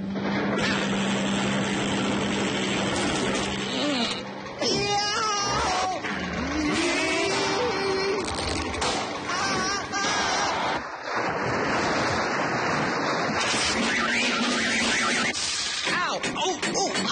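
Cartoon boat motor on a lake, a loud steady droning engine roar running throughout with splashing water and brief bursts of voices and sound effects over it.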